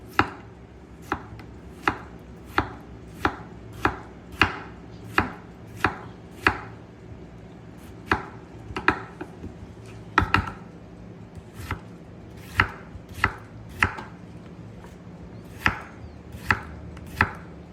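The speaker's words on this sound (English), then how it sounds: "I will go start slicing the tomato and the lettuce" A sharp knife slicing a tomato thinly on a cutting board for a club sandwich, about twenty crisp, evenly spaced chops ringing out close and clear over a faint background hum, with no talking.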